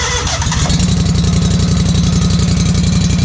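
A Scag lawn mower engine runs loudly and close after a cold start with the choke up, sputtering briefly before settling into a rapid, steady, throbbing idle.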